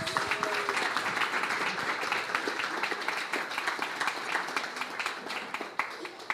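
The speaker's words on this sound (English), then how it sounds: "Let's give Matthias a round of applause" A conference audience in a Brooklyn venue claps for an incoming speaker, with dense, steady applause filling the room for several seconds, plus some cheering and whoops over it.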